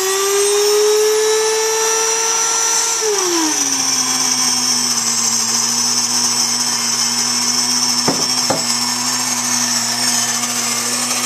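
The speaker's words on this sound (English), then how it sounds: "This is my electric wheat grinder, and here goes." An electric wheat grinder turning wheat berries into flour gives a loud, steady high-pitched mechanical whine. Its motor pitch drops and settles partway through, then holds constant with a couple of brief knocks.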